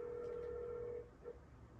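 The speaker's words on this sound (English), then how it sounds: "My phone was ringing" A phone rings faintly indoors, a steady electronic tone held for about a second before it stops, followed by quiet room noise.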